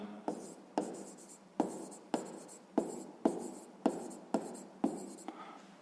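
A pen writes out a sixth-grade math solution for a square's area, giving a steady run of about ten scratchy strokes in an even rhythm, close and quiet, with no talking.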